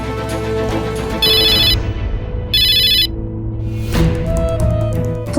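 A phone rings for an incoming call: two short electronic ringtone bursts about a second apart, clear and prominent over a steady background music bed, with no talking.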